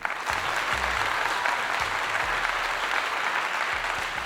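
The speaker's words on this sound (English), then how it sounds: "I want to just give Deion a clap" Sustained applause for Deion Sanders fills the space, a dense steady patter of many hands at even loudness throughout with occasional low thumps underneath.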